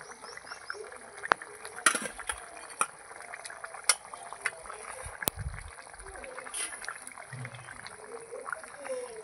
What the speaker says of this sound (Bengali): আমি মাছগুলো দিয়ে দিয়েছি, দিয়ে এবার ঝোলটাকে ভালো করে ফুটতে দেবো।